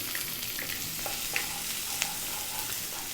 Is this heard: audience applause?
no